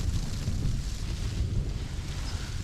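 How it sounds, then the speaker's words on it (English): Storm-force wind gusts batter a tent on the snowy Blencathra summit, a continuous low roaring rumble of buffeting wind against the fabric and microphone, heard up close with no talking. "it's getting a bit flappy in here. There's gusts coming through that are really almost annihilating this tent"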